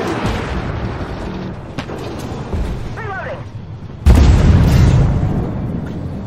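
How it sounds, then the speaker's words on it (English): In-game gunfire aimed at the player in a video game: scattered shots and a heavy boom midway, followed by a loud, rumbling burst of fire, with a voice talking over parts of it. "He's shooting at me."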